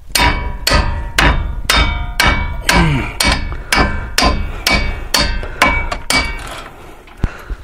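Hammer striking a ratchet handle to break loose a brake caliper bolt on a 1999–2004 Honda Odyssey, about a dozen loud, evenly spaced metallic whacks with ringing tails, close by.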